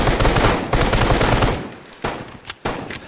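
Gunfire exchange in the video game Arma 3 during a close-quarters fight in a building, loud rapid bursts of automatic fire, then a pause and a few scattered shots.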